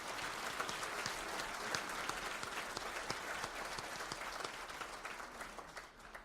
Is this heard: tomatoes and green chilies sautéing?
no